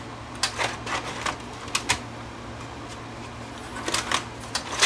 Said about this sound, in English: and it kicks the tape out.